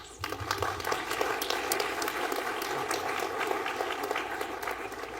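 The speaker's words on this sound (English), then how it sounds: "I would like to give all of you a round of applause" An audience at a scholarship award ceremony claps for the recipients' parents and families, a dense, even patter of many hands held steady for several seconds.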